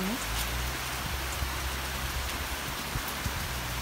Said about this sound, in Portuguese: Não é bom só olhar assim a chuva no sítio, né?